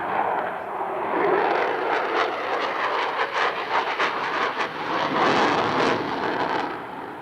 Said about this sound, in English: Sound of freedom in 1993, the GE F-110 engines.